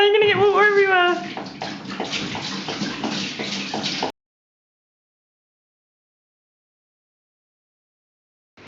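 Water splashes and pours steadily into a marine aquarium for a few seconds after a short burst of speech, then cuts off into silence.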